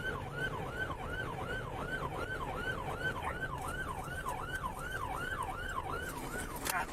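A wailing police emergency siren cycles up and down steadily and rapidly during a pursuit, moderately loud over a low road rumble, with no talking.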